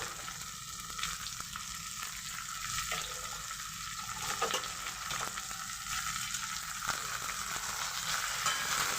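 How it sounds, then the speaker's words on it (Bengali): Chicken pieces frying with salt in a pan, a steady close sizzle running throughout with soft scraping and stirring knocks at irregular intervals; no voices. "লবণের সাথে চিকেনটাকে ভালো করে ভাজবো এক হাতে ভিডিও করছি তার জন্য আস্তে আস্তে করে আমি নাড়াচাড়া করছি"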